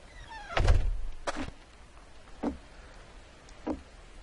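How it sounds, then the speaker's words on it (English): A door closes in the survival video game Rust: a heavy thunk followed by three softer knocking clicks spaced about a second apart, fairly quiet with no talk. "Alright, just close that door."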